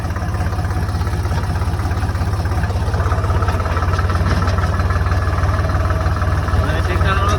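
An ACE tractor engine runs steadily while driving along a rough village road, giving a loud, constant low drone with a dense mechanical rattle that holds without a break.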